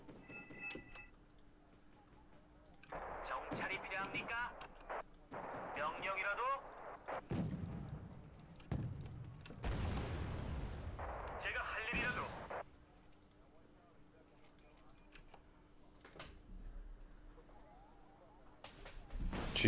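Gunfire and artillery-like blasts from the video game Wargame Red Dragon, with a helicopter gunship firing at an MI2, come in bursts of sharp reports and booms over roughly twelve seconds, mixed with voices talking over the battle.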